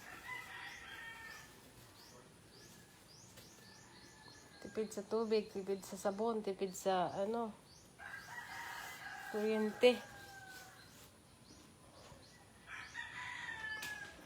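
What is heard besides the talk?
rooster crowing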